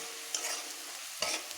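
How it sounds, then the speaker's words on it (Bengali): Onions browning in a pan for biryani make a soft, steady sizzle with two brief scraping stirs, quiet and close, with no talking. "আমি এই পেঁয়াজটাকে এইভাবে বাদামি করে ভেজে নিচ্ছি।"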